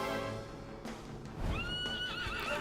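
A horse whinnies loudly with a shaky, rising-and-falling cry, over a busy Dragon Quest XI soundscape with a low rumble underneath.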